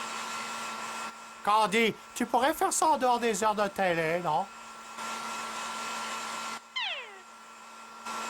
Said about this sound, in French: vient de brancher son sèche-cheveux